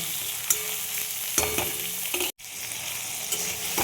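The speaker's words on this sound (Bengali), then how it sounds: "টমেটোটা একটু আমি একটু ভেজে নেব বা সটে করে নেব" Steady sizzling of tomatoes frying in a hot pan, a continuous crackle with a few louder spatters and a brief gap midway.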